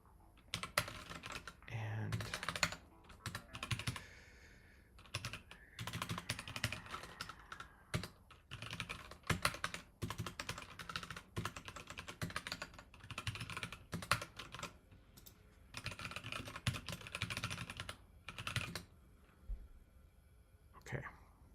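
Rapid clicking of computer keyboard keys during a live coding session in Python and Blender 3D, steady bursts of typing running through the whole stretch with a voice murmuring faintly underneath.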